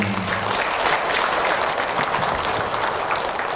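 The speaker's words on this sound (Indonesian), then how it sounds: "Tepuk tangan ibu untuk akhir." Audience applause at the end of an Islamic religious talk, a dense, steady burst of many hands clapping, fairly loud and close, with no speech over it.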